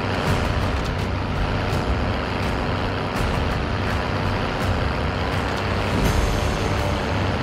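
Heavy trucks in Call of Duty: Modern Warfare rumble steadily with a continuous low engine drone and broadband road noise, loud and close throughout, with no voices.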